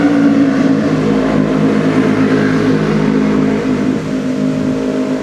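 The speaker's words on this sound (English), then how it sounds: "Motorcycles." Motorcycle engines rev loudly and continuously close by on a road, a steady throaty drone that swells slightly before easing back, with no voices heard.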